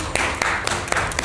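Brief applause at a Red Bull League of Legends event with T1, a handful of sharp claps standing out over a dense crowd wash.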